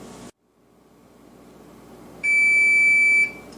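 A kitchen timer set for cooking wild rice goes off with a single steady, shrill electronic beep lasting about a second, loud and close, after a quiet stretch with faint background hiss.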